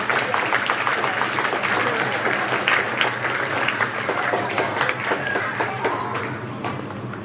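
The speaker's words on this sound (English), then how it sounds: "let's give a round of applause for our brave children" Applause from an audience for children at an elementary school geography bee, a steady dense patter of clapping with faint voices mixed in, fairly even throughout.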